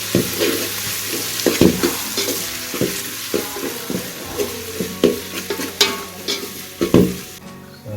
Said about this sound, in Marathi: थोडा फ्राय करूया तेलामध्ये